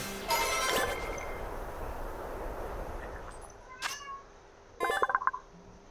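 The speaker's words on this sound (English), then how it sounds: "the whining, if it is picking up, that's the cat" A house cat whines indoors with a couple of short, plaintive meows near the end, following a burst of electronic video game sound at the start.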